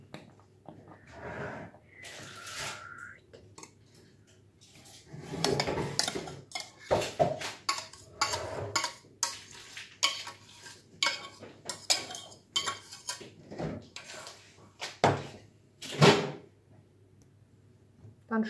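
Vegan semolina porridge spooned into plates, with soft scraping and clinking of a spoon against pot and dishes in irregular bursts, close and moderately quiet amid brief pauses.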